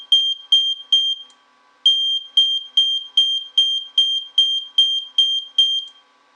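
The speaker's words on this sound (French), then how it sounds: "Là on a un petit buzzer et dès qu'on passe devant" A small buzzer on a homemade motion detector built with NE555 timer circuits beeps in a rapid, evenly spaced series of shrill tones, loud and close, pausing once before the beeping resumes.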